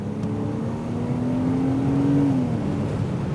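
A midship-engined car revs, a steady engine drone with a rising tone that swells and then drops away near the end.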